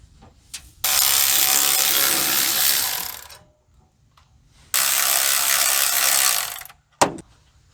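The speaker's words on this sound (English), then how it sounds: "let's get this here alternator undone" A ratchet wrench loosening the alternator on a 1972 C30 truck: two sustained bursts of rapid clicking, each a few seconds long, separated by a short pause and followed by a sharp metallic knock.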